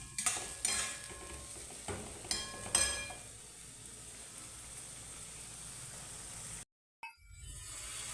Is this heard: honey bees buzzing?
no